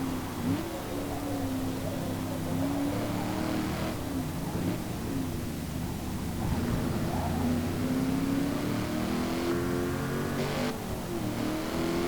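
A Colt car accelerating in the racing game Forza Motorsport, a steady engine drone with rising and falling revs and gear changes, sustained and close, no talking.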